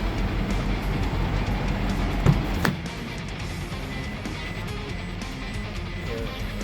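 A Toyota Hilux 1KD-FTV diesel engine runs with a loud, close, broadband rumble, a brief knock partway through, then a steady, slightly quieter drone.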